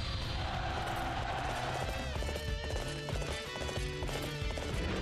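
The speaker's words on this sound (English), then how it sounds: "Come here, horsey." A horse clatters along on hooves and gives a whinny in the middle of a loud, crowded Dynasty Warriors 8: Empires battle, with dense clashing noise and music around it.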